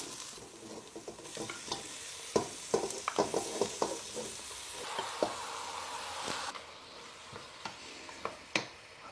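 Seasoned lamb dropped into a hot pan, breaking into a bright, close sizzle with scattered clacks and scrapes from a utensil moving the meat, before the frying settles; no talking.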